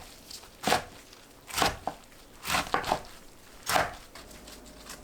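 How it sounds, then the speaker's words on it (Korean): Knife chopping aster greens (chwinamul) into short lengths on a cutting board: four or five separate bursts of blade strikes, close and fairly soft, with quiet pauses between and no talking. "취나물은 대충 풀고 2cm 길이로 자릅니다."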